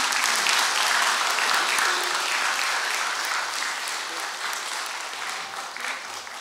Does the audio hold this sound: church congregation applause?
yes